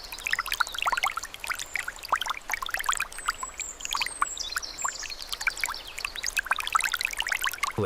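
Cold mountain water trickles and splashes over a stream bed on a wasabi farm in Japan, a close, bright babble of small gurgles and drips that runs on steadily.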